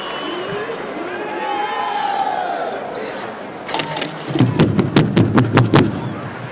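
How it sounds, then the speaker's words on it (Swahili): A crowd at an outdoor Madaraka Day celebration in Kisumu: a murmuring mass of voices, then a burst of loud, evenly spaced claps, about eight sharp strikes in steady rhythm. "Wapongeze kwa makofi mabibi na mabwana"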